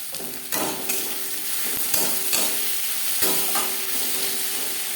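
Chopped onions stirred and fried in a pan for a potato and puti fish curry: a steady close sizzle broken by sharp scraping spatula strokes every second or so.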